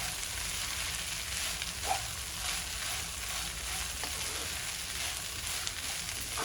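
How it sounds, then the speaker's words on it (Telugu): Poha (flattened rice) being stirred with masala and salt in a pan, a steady close sizzle with faint scraping and a small clink partway through. "మంచిగా ఒకసారి కింద ఉండే మసాలా అంతా అటుకులోకి కలిసేటట్టు కలుపుకుందాం"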